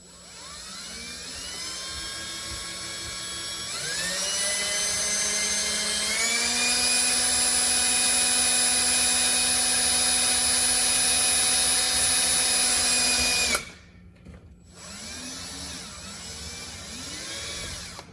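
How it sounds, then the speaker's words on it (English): A power drill bores into a plastic front splitter on a MK7.5 Golf R. The motor whine rises in pitch in steps, holds a loud sustained tone for several seconds, then cuts off abruptly before brief restarts. "using a drill that's slightly smaller than the actual bolt, so I could actually grab hold the plastic"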